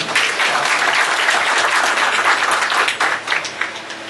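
Dense, steady applause from an audience at a fertility clinic inauguration ceremony in Chennai, many hands clapping continuously and loudly throughout, with no talk over it.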